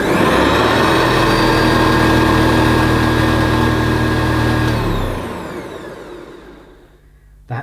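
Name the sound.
Hoover Senior C1300 commercial upright vacuum cleaner motor running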